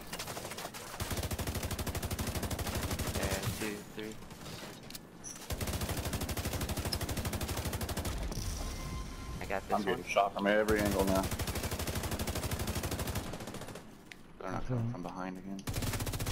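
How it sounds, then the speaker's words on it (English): Rapid automatic gunfire rattles in long, loud bursts from multiple angles during a Dark Zone PvP fight in the video game The Division 2, with short pauses between volleys and a player talking briefly. "getting shot from every angle now"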